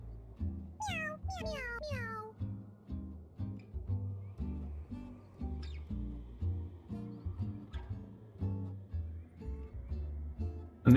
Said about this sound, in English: I love how she meows.